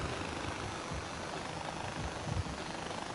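Helicopter rotor noise from Far Cry 4 drones steadily and evenly at moderate volume, with a constant low chop and no voices.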